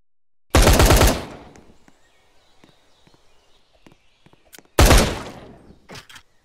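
Two loud, close bursts of battle rifle fire in the video game Island Predator, each a short rapid volley followed by scattered clicks and quieter movement sounds.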